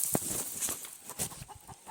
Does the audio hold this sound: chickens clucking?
yes